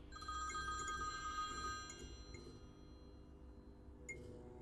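Old-style telephone bell ringing in a French tabletop role-play horror session, a faint metallic trilling ring fading out, quiet and distant with a few soft clicks.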